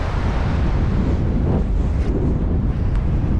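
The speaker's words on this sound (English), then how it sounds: "Aye, that wind's come back." Strong wind buffeting the microphone on a remote Northumberland beach during a night of sea fishing, a loud, continuous low roar with surf mixed in and no speech.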